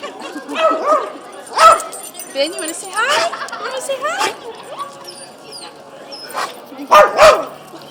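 Dogs at a puppy pool party bark and yip in short bursts amid lively chatter, with a person talking close by over the commotion.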